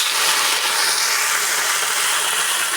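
Gongura (sorrel) leaves hit very hot oil in a pan for a chutney, giving a loud, steady, dense hiss that sizzles continuously throughout, with no talk.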